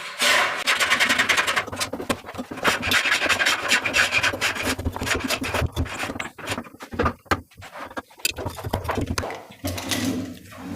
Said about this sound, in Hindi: हम दोनों स्क्रू ड्राइवर के साथ से हम इसको फिटिंग कर देते हैं